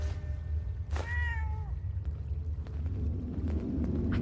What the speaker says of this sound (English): I can't believe that Penny's cat isn't robotic.